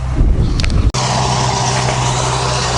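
Farm vehicle with a rumbling engine, driven by Sashko, close and loud, with a brief dropout and then a steady low motor drone and faint rattling.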